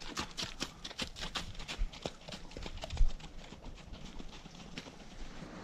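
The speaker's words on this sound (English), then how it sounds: "Beautiful horse." A horse walks along a hiking trail near a bridge, its hooves clip-clopping in a steady, even rhythm of soft, moderately close footfalls, with no talking.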